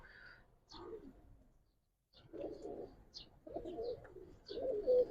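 Giribaz pigeons coo on a rooftop loft, low rounded calls coming in bursts after a brief quiet gap, fairly close, with a few higher chirps scattered between them and no talking.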